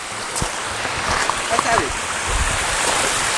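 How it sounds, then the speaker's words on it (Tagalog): A small natural waterfall spills from above at the Ein Gedi oasis, giving a steady broadband rush of falling water close by, with voices talking over it. "Ayun, guys, another falls, small falls."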